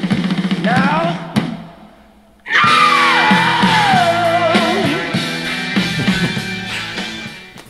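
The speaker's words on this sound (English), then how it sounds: "right about at the 8-minute mark, he lets loose a hell of a scream" A singer lets out a long, loud, raw scream in the studio recording of a song, the voice sliding down in pitch over a full band.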